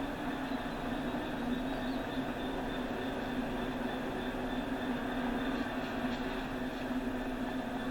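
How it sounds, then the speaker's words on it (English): LNER Azuma Class 801 train in Train Sim World 4 at Peterborough, a steady continuous rail rumble with a constant hum, moderately loud and unbroken throughout, no talking. "So there we go, that's our train."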